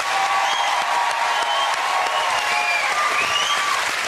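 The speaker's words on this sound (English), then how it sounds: "Give them a massive round of applause." A television game show studio audience applauds loudly and continuously, a thick steady wash of clapping with faint cheers layered on top.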